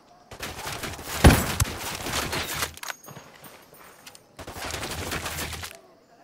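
Sustained bursts of gunfire in the Ghost Recon video game, dense rapid shots with a sharp loud crack early on, dropping briefly to quieter clatter before another heavy burst, no speech over it.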